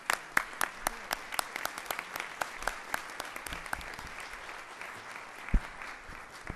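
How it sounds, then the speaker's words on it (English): A Board of Education meeting audience breaks into a round of applause for seventh-grade students, individual claps sharply distinct and steady over a soft roomy background, tapering slightly toward the end. "I know you want to give a round of applause"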